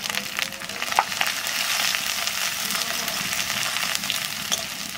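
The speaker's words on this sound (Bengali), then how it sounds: "এবার কুটে রাখা আদা আর কাঁচা লঙ্কা বাটাটা দেবো।" Chopped ginger and green chilli paste with chilli powder and turmeric fry in a pan over cumin and dried chillies, giving a steady, close, even sizzle with a few faint clicks and no voices.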